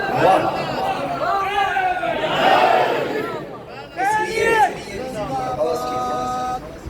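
A crowd at a Friday congregation raises loud, rhythmic chanted religious slogans in call-and-response bursts, with voices rising and falling over about seven seconds.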